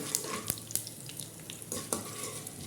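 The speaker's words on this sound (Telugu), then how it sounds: "దీనిలో రెండు ఎండుమిర్చి వేసాను కొంచెం కోపు దినుసులు వేసుకుందాం ఫ్రై చేసుకున్నాం దీన్ని" Dried red chillies and tempering spices frying in hot oil, a steady close sizzle broken by a few sharp pops and crackles, with no voices.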